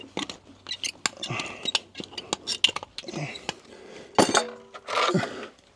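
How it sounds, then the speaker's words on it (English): A farrier chopping the nail heads off a horseshoe on a hoof: a series of sharp, close metallic clips and clinks in an irregular rhythm, with brief pauses between cuts. "chop the top of the nail head off"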